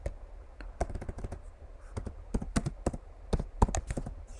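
Irregular keystrokes tapped out on a computer keyboard while entering terminal commands, close and crisp, in short bursts with pauses between and no one talking.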